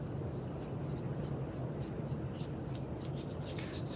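A paintbrush brushes lightly across paper with blue paint, making soft, repeated scratchy strokes that come in short bursts over a low background hum.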